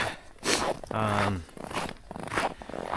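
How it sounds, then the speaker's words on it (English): Footsteps crunching through deep snow in winter, a few uneven crunchy steps close by, with a person talking over and between them. "I'm currently crunching around in the snow."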